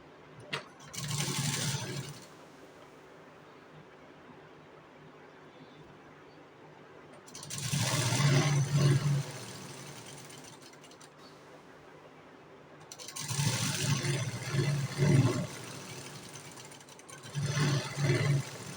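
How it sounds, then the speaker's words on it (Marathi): Sewing machine running a side seam on a cut dress, heard in three separate bursts of mechanical whirring and clatter with quiet gaps between them, no talking. "आता दुसऱ्या साईडची पण शिलाई मारून घेणार आहे."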